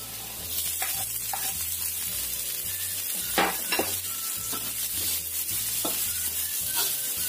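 Garlic and chili sauté in a pan for an oil-free eggplant dish. A steady, close sizzle runs throughout, with scraping stirring strokes and occasional utensil knocks on top, and a low hum underneath.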